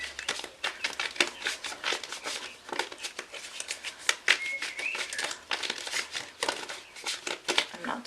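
Tarot deck being shuffled by hand, a dense run of crisp card riffles, flicks and slaps close to the microphone, with soft rustling between bursts and no speech.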